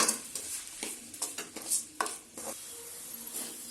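Raw tomatoes sizzle in a hot pan as a spoon stirs them in repeated scraping strokes, near and moderately loud, with no talking.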